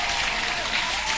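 Steady applause from an audience, a dense even patter of clapping sustained for about a second with no break.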